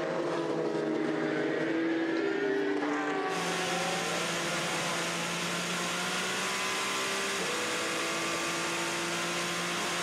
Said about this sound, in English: This is Le Mans for 2018. Look at how close these two Toyotas are.